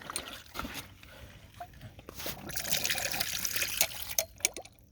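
A water ram pump runs with water trickling and splashing, irregular drips and gushes growing busier and louder toward the end, close by and without talk.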